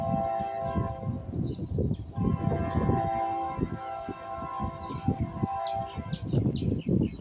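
A Union Pacific empty well train led by a single GE locomotive passes nearby with a steady rumble and clatter of cars, under a faint sustained horn-like tone.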